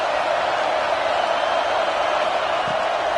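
Football stadium crowd at an Alabama game roars as a steady, loud wash of noise, a dense distant-sounding mass of voices with no distinct claps or individual shouts standing out.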